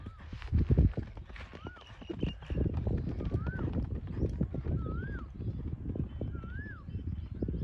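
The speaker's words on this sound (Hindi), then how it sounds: "जो पैर उठा के घोड़ा चलता है तो उसको ज़्यादा आसानी रहती है।" A horse walks across a freshly ploughed field in steady, soft hoof thuds, close and continuous, while people talk over it throughout and a high whistle-like call repeats several times.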